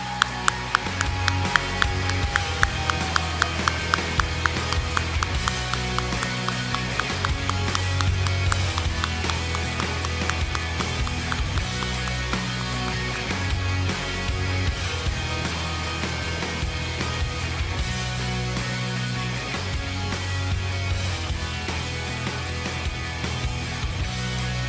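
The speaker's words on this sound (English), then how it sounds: "I'd love to get a big round of applause for our winner," An audience at an awards ceremony claps steadily for the winner, a sustained, rhythmic round of applause that runs on for many seconds over a light musical backing.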